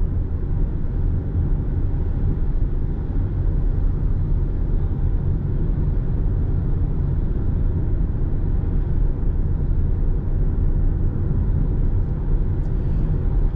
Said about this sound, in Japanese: 今のところね時速51キロですが EV 走行キープしてますね。